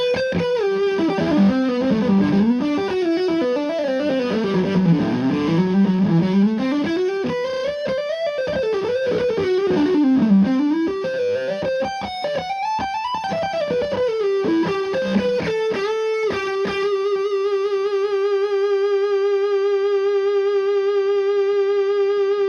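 Electric guitar through an Orange Dual Terror amp on its liquid distortion channel plays a sustained, smooth, saturated lead line with gliding notes. It is loud and continuous and ends on a long held chord.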